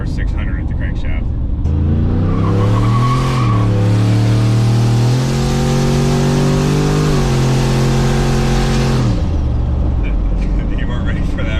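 A twin-turbo GMC Yukon making a little over 600 horsepower accelerates hard, its engine roar swelling and climbing in pitch for about seven seconds from inside the cabin, with brief voices before and after.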